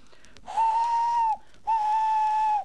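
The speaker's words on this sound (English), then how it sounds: "Poor James disappeared under the bridge, whistling for help." Two long, steady whistle blasts separated by a short pause, loud and clear, like a steam engine's whistle.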